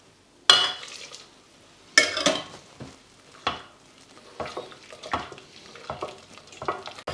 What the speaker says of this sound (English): It's really important to keep stirring the bottom